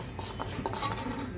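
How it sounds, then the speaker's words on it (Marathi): Semolina roasting in ghee in a pan while being stirred: scraping of a utensil and light clinks over a soft, steady sizzle, close and continuous without talk. "आता तूप घालून अर्धी वाटी रवा घालते मी, तो पण भाजून घेते."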